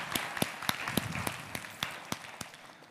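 Scattered applause from a conference audience after a FreeBSD CDN talk, a thin spread of claps with a few sharper individual hits standing out, fairly close and modest in volume.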